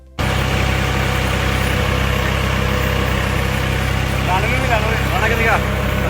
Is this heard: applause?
no